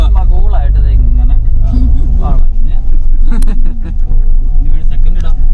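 A Tata Altroz carrying six people climbs a hill, its engine a steady low rumble under loud, continuous talking inside the cabin.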